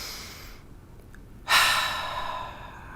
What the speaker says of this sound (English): When things are feeling chaotic, just breathe.